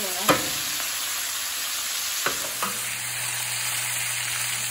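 Pork ribs brown in a pan with a steady, close sizzle and frying crackle that runs the whole time, broken by a few sharp clicks or knocks.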